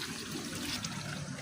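Water gushes steadily into a container while it is filled from a small four-wheeled water cart outdoors, a continuous close splashing pour with no talk.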